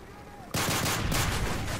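Gunfire in the video game Call of Duty Modern Warfare 3 erupts after a quiet start into a loud, dense, continuous burst of rapid shots lasting over a second.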